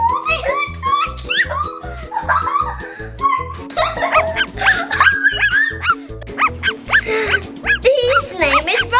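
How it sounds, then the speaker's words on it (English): A new puppy yips and barks in quick, high bursts over a steady rhythmic background, with excited voices talking throughout. "Got a new puppy!"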